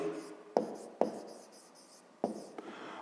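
Pen scratching across paper as a math exercise is written out by hand, a steady close rustle broken by a few sharp taps where the tip meets the page.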